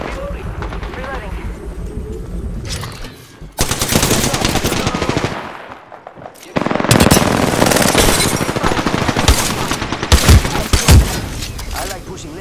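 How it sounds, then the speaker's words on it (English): Apex Legends gunfire: long loud bursts of rapid automatic shots that start, stop and start again, with quieter stretches between them and in-game voice lines underneath. "Opening fire on the enemy."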